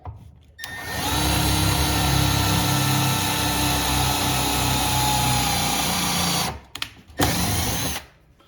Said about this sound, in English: I'm gonna use my 1/8 drill bit.